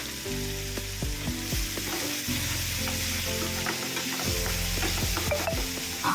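Onion pieces sizzle and fry in a pan for a Konkani crab pickle, a steady loud crackle with frequent stirring scrapes and clinks throughout, no voices.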